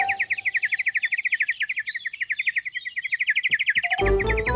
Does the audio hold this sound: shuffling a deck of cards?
no